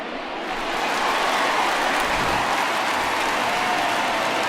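A stadium crowd in the MLB The Show 2020 baseball video game cheers and applauds after a home run, a dense roar that swells within the first second and holds loud and steady.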